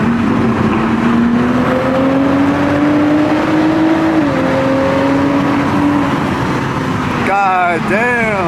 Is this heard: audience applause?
no